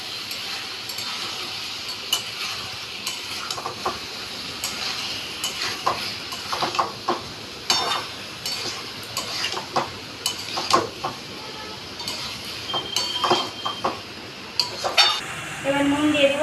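Boiled papaya and potato go into a pan for a potato, soybean and papaya curry, followed by steady stirring with metal scraping and clinking against the pot over a faint sizzle, in irregular close bursts with no talking.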